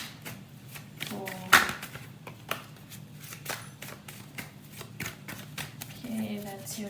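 A deck of tarot cards is shuffled close up in a quiet room, giving rapid riffling flutters and soft slaps in an uneven rhythm, with a voice talking faintly beneath.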